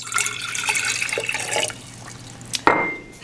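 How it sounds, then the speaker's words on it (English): A cup of water trickles and splashes steadily into a container while brewing root beer and ginger beer, with a brief louder gush near the end. "we're going to add"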